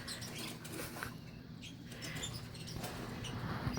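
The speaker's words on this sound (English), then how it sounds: "The scratching noise is Brinks." A pet rodent scratches with a faint, continuous, rough patter, quiet and close, with no voices present.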